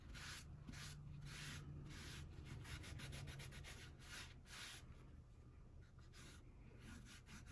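Steady, close rubbing of paper being worked off an image transfer on a snowman wall hanger, continuous scratchy strokes throughout with no talk.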